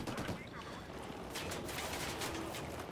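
Gunfire in the Ghost Recon Wildlands video game, a fast burst of automatic weapon shots and rattling fusillade filling the whole moment, fairly quiet overall with a voice mixed in.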